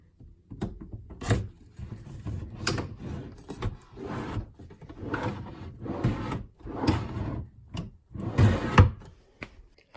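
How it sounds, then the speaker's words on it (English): A desk drawer slides into its side tracks on a Realspace Magellan Performance Collection L-shaped desk, with repeated close rumbling scrapes and knocks as it is pushed in and moved. "carefully position the track of the drawer that you want to insert onto each side right in the beginning here, and just slowly push it in"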